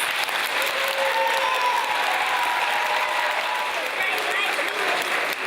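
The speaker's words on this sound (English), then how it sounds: "let me see you give her a big round of applause" Steady audience applause fills a school auditorium at a teacher awards event, a dense, continuous wash of clapping from a large crowd, loud and unbroken throughout.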